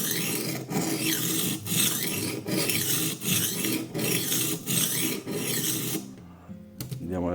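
A knife blade scrapes back and forth over the 400-grit stone of a cheap sharpener in steady rasping strokes, about ten even passes, close and loud, then stops with a few light clicks.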